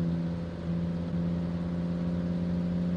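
Air-cooled V10 truck engine in the BeamNG driving game holding a steady, loud drone at high revs, as if pinned against the rev limiter, with a constant harmonic whine and no talking.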